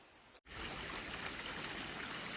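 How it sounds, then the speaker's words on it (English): A stream flows at a water source beside the Appalachian Trail, its steady close rushing and trickling starting after a brief pause and continuing evenly without any talk. "I'm at this great water source"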